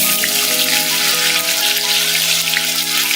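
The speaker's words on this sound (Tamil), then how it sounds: "எண்ணெய் காஞ்சிருச்சு இப்ப நறுக்கி வச்ச வாழைக்காய போடுதோம்" Loud, continuous sizzling of plantain slices frying in hot oil, a dense crackling hiss close up with a faint hum underneath.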